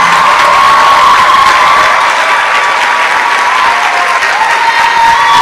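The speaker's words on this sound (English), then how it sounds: "A thunderous applause." Sustained thunderous clapping mixed with cheers from a big audience saluting parents and guardians at an induction ceremony for new medical and dental doctors, loud and continuous throughout with scattered whoops riding on top.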